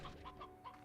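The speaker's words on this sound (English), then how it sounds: "Oh, that's a normal hen." A hen in a video game clucks in a quick series of four short, soft clucks, faint and close, with no talk over them.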